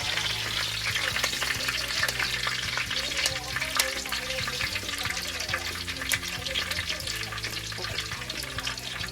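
Mustard seeds and fenugreek seeds frying in hot oil for a fish curry, a steady close sizzle with scattered sharp pops and crackles throughout, no talking.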